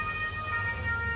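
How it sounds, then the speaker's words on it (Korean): An emergency vehicle siren wails steadily on a busy Rome street, a sustained tonal call that carries without a break over the low hum of traffic. "삐뽀삐뽀 아주 로마 아주 시끄러워 죽겠어 아주"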